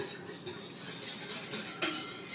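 Pumpkin pancake batter stirred with butter in a bowl, utensil scraping and clinking against the sides in a steady close rhythm, with one sharper knock near the end.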